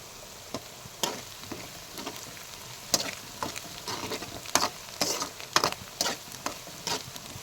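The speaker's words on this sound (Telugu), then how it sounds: "బాగా నూనెలో వేగనిద్దాం." Onions fry in oil in a pan with a soft, steady sizzle, broken by scattered sharp crackles and pops and occasional stirring sounds, with no talking.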